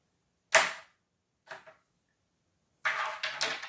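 A crokinole disc is flicked in a long, stretched 20-point ricochet shot: a sharp click, a lighter tap about a second later, then a quick cluster of clacks as it strikes the pegs, all close and crisp against silence.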